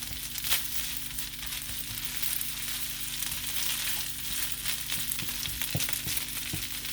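Chicken fried rice sizzles steadily in a hot pan while it is stir-fried and its clumps broken apart, with scattered scrapes and taps of the utensil over a constant frying hiss.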